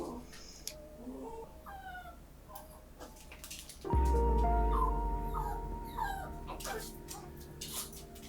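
A 14-year-old dog whimpers indoors with soft, high, wavering cries spread over several seconds. A loud low rumbling noise starts partway through and runs beneath the later whines.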